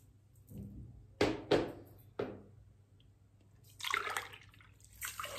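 Water is poured into a pot over sugar to start a syrup, splashing and trickling in a few short bursts with quieter drips in between, close and fairly soft.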